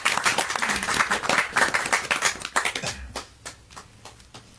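Audience at a poetry recital in a Lahore hall claps in a dense, steady burst of applause that thins into scattered claps toward the end, with no talk over it.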